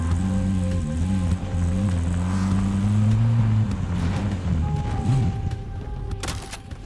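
A vehicle in Warzone drives with a steady, loud engine hum whose pitch rises and then drops as it shifts, ending in a few sharp thumps.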